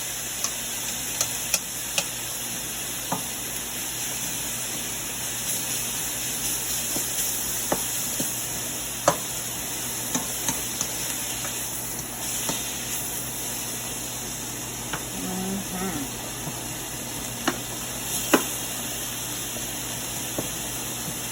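Steak strips and onions searing in a hot pan for a stir fry, a steady sizzling hiss with scattered sharp clicks and taps of a utensil, fairly quiet and continuous with no talking.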